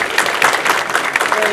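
Brief burst of dense audience applause at a fundraising program for a Hindu cremation ground, steady clapping from a crowd with a voice over it.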